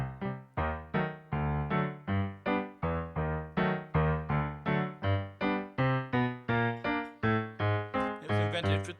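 Solo stride piano, the left hand bouncing steadily between low bass notes and mid-range chords under the melody, played close and clearly in an even, pulsing rhythm with no talking.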